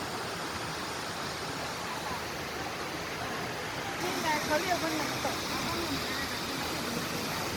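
A waterfall at Chiang Tung roars as a steady broadband rush of falling water, close and continuous, with faint voices talking over it partway through.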